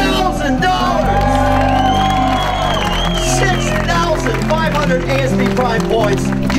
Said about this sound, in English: You know him, Sebastian Seitz, yelling for sea bass.